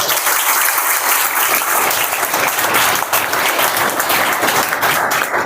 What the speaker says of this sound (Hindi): तो ऐसी पर्सनैलिटी के लिए एक बार जोरदार तालियां हो जाए।